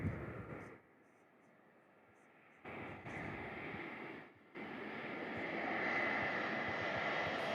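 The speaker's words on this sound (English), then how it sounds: "Enjoy the lovely A321neo as they pass over us here at Mitch'S Mound for their arrival in from Sydney on runway" An Airbus A321neo drones overhead on approach, arriving from Sydney at Perth Airport, the engine roar swelling and holding loud toward the end, with brief gaps and faint talk nearby.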